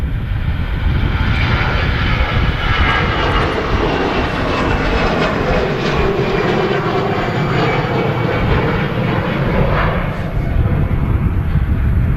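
An EasyJet airliner departs Manchester Airport bound for Dubrovnik, a loud, sustained jet engine roar with deep rumble, steady throughout as it climbs away.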